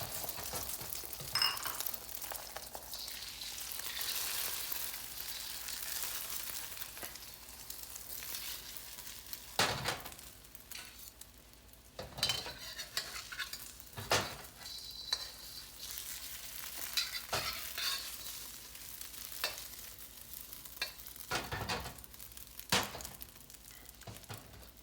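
Eggs frying in swirled oil in a pan for fried rice, a continuous bright sizzle with intermittent louder spitting bursts and occasional clinks of a utensil, close and alone without talk.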